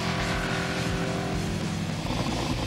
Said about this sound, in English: They'll be drifting V8 style.